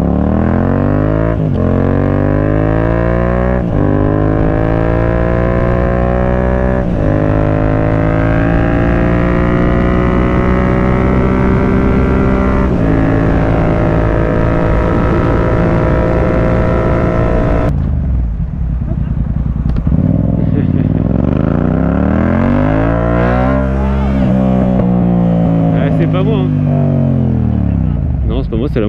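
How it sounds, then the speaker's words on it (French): Motorcycle engine revving repeatedly through gears, loud and close, pitch rising and falling in sweeps with a sudden cut then a fresh climb; a passenger is aboard. "C'est la moto."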